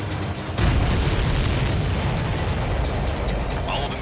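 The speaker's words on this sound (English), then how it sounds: "All of the missiles have been destroyed." Missiles exploding in a video game, a heavy boom followed by a sustained loud rumble for several seconds.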